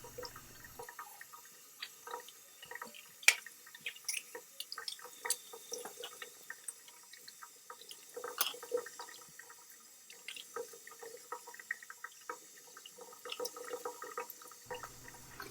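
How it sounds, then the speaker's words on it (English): Nebulizer parts rinsed under a running tap: a steady splashing hiss of water runs for about fourteen seconds, scattered with sharp drips and small clatters, close by and moderately quiet, with no talking. "rinse the parts under running water for at least 30 seconds after."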